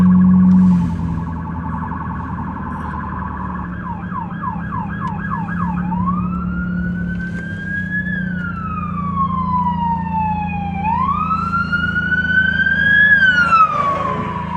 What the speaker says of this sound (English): This is the police going.